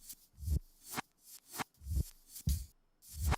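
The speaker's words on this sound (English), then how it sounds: "Or reversed and chopped it." Reversed, chopped old breakbeat drums for a track, with swelling hits that build into abrupt cut-offs, repeating roughly every half second with heavy low thumps and bright hiss.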